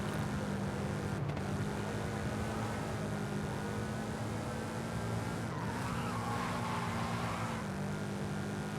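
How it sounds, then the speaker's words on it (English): A Toyota GR86 in Forza Horizon slides through a corner on the handbrake, its tires squealing in a long skid over a steady engine drone, loud and continuous for several seconds. "we'll actually just take this next corner here with handbrake"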